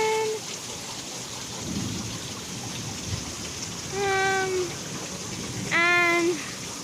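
Steady rain falls with a low rumble of thunder beneath it, while high, harmonic bird-like chirps or squeaks rise briefly twice near the end.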